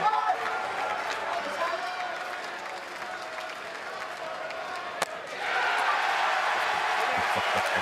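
A college baseball crowd at the College World Series claps and cheers steadily, swelling louder near the end, while a commentator talks over the noise.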